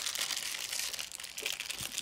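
A child rips open a packet, its paper or foil crinkling and tearing in a continuous close rustle for about two seconds, with no talking.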